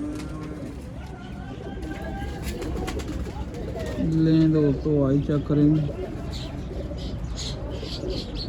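Rooftop pigeons kept by a fancier coo in low, rolling phrases, clearest midway, beneath someone speaking through most of the stretch.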